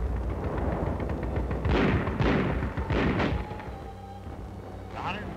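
155 mm artillery firing in WWII Italy combat, a few heavy booms and rumbling blasts in quick succession, loud and reverberant, fading into a quieter rumble.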